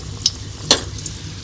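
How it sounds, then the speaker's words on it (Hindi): Mughlai egg paratha frying until golden on both sides, a gentle close sizzle punctuated by a couple of brief spatula taps and scrapes against the pan. "मैं दोनों तरफ से गोल्डन होने तक इसको फ्राई कर लूँगी"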